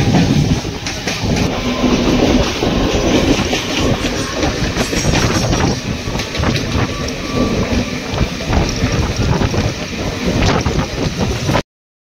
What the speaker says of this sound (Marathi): आता सुटते ट्रेन कुर्ल्यावर